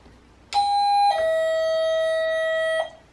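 A doorbell chimes indoors with a clear two-tone ding-dong, the second tone held and ringing out for about two seconds, loud and close with no talking.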